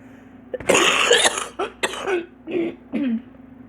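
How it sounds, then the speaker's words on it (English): A person with a COPD flare nearby coughs hard several times in a row, with throaty, rasping bursts and short pauses between them. "And then I apologize ahead of time for the coughing."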